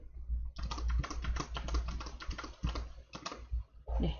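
Rapid, continuous computer-keyboard typing as data is entered into an Excel spreadsheet, with dense overlapping keystrokes, a couple of brief pauses, and no voices.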